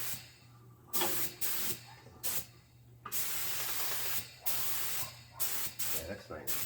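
Spray paint coating a Sears Craftsman front-tine roto-tiller, heard as repeated close hissing bursts of about half a second to a second each, separated by short pauses, with a low steady hum underneath.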